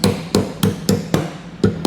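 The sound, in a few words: hammer knocking a metal tab flush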